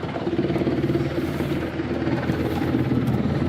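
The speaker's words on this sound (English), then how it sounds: "This helicopter just flew in and knocked over everything." A helicopter's loud, steady rotor thumping and engine roar fill the air continuously, close by, as it flies in over a forest campsite.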